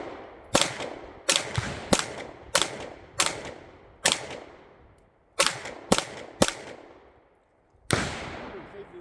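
Handgun shots ring out at a shooting range during a concealed-carry qualification course, about a dozen sharp reports fired singly and in quick pairs with short pauses between, loud and close.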